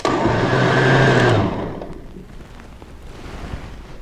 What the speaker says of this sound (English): Add a couple stalks of celery to this. Give it a blend.